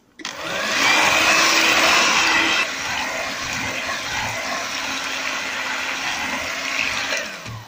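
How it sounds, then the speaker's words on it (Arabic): Yogurt and vinegar are beaten together in a bowl for a yogurt cake. A loud, steady mechanical whirring runs continuously, easing slightly after a couple of seconds and then holding even to the end. "هنزل بالزبادي واضرب كل ده كده مع بعضه"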